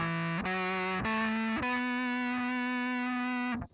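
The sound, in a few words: synth pedal square wave guitar tone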